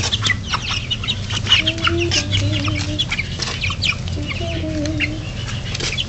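A small chicken clucks and chirps close by, with short repeated calls over steady rustling and background noise, no speech.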